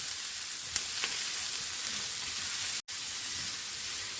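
Diced pieces sautéed gently in a pan for chicken filling, giving a steady soft sizzle and frying hiss with a few light stirring clicks and one brief dropout, no voices.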